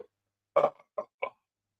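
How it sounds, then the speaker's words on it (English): A short burp after drinking an IPA beer, a throaty belch followed by two smaller, brief hiccup-like bursts, close and alone. "I think we might have the beer burps coming up"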